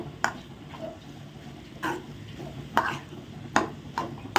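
Chicken being stirred into potato masala in a pan for a bread-based evening snack: a handful of soft scraping strokes at an uneven pace, close and moderately quiet, with no talk.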